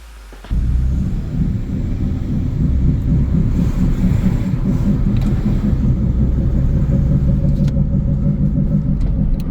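A car with a fault gives off a very loud, constant droning roar while driving, starting abruptly and holding steady with rumbling low end and some wind buffeting.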